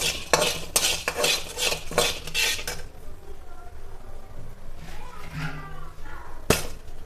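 Coriander seeds roast in a pan while a spoon stirs them in quick, rhythmic scraping strokes, followed by quieter rustling and a final sharp clink against the pan.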